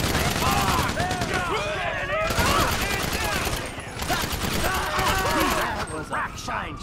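Bursts of rapid gunfire from the video game Grand Theft Auto V, dense and overlapping like a fusillade, keep going throughout with game voices and shouting mixed over the shots.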